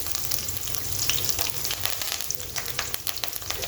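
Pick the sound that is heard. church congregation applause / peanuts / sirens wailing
peanuts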